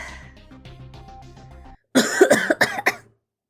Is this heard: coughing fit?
yes